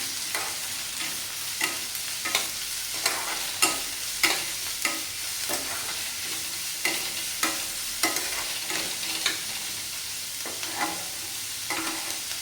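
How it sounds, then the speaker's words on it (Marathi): Chopped onion fries in hot oil while a spoon stirs it, giving a steady close sizzle broken by regular scraping strokes against the pan, with no voices. "कांदा तेलामध्ये चांगला आपल्याला परतून घ्यायचा आहे"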